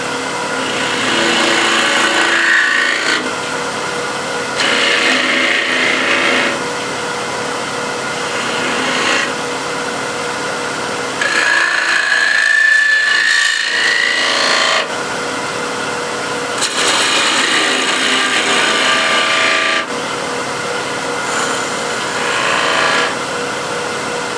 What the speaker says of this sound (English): Again, spindle gouge.